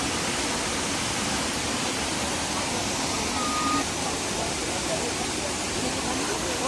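Krang Shuri waterfall in Meghalaya roars as a steady, dense wash of falling water, loud and continuous throughout without a break.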